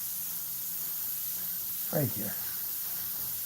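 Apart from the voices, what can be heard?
airbrush spraying Createx paint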